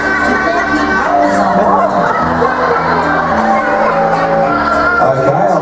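A loud, chaotic din of many children shouting and yelling at once in a classroom, constant and close, like an unruly room full of kids.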